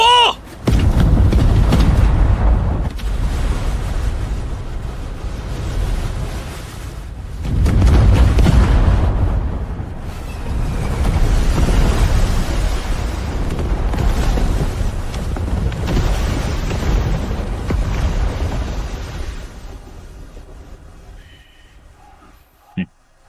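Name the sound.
cannon fire and explosions from a fleet, animation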